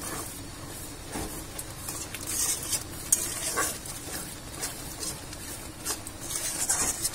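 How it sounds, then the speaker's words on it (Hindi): Spice paste is stirred and fried in a pan for a prawn malai curry, a soft continuous sizzle with gentle scraping and light pattering from the spoon, close and fairly quiet throughout. "मसलाटा भालोभाबे कषानो हो गेले तेल छाड़ले एड करब एते माछ।"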